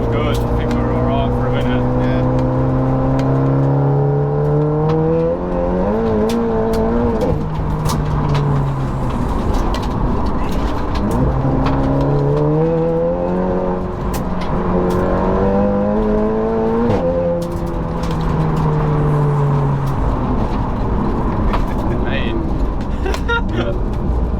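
A SEAT Cupra track car with a 2-litre engine making 469 bhp, heard from inside the cabin as it repeatedly accelerates through the gears with a loud, rising drone, each pull ending in a shift. People talk over the engine noise.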